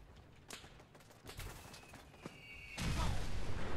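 Gunfire in Fallout 4, scattered shots and bursts with a louder sustained barrage near the end, mixed with game ambience and a faint whooshing streak.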